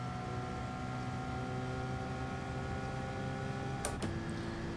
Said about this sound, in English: Revving out every gear.